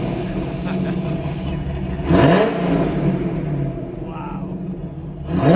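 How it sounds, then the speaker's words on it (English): Supercharged 2007 Corvette Z06 with a six-speed manual, idling with a choppy rumble and then blipped in a couple of sharp revs that swell and fall back, close and loud with a voice nearby. "let's get a couple revs"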